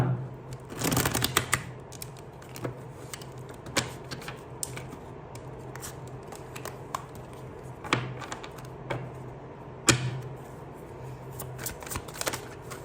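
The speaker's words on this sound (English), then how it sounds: "Perhaps I need to shuffle." Tarot cards being shuffled close up: a dense riffling burst near the start, then scattered crisp snaps and flicks of cards, no voices.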